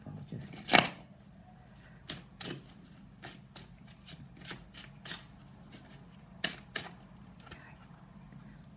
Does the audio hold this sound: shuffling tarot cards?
yes